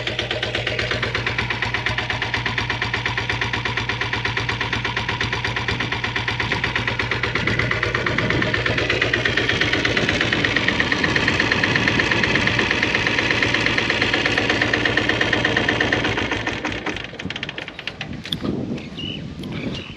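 A restored Royal Enfield Bullet motorcycle with a diesel engine idles close by, a loud, steady knocking chug with an even rhythm that holds for most of the time before turning rougher and uneven near the end.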